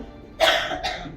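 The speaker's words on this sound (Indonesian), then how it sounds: "saya sedang batuk berat loh" Two heavy, harsh coughs from a worship leader with a bad cough, close and loud, one after another in a quiet church setting.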